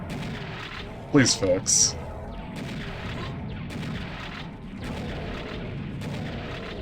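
Shotgun blasts in a first-person shooter level played on serious difficulty, a quick cluster of three or four loud, booming shots over constant game noise, with someone talking.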